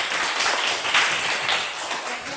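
Classroom applause from students, a steady wash of many hands clapping at moderate volume for a few seconds, with no clear talk over it.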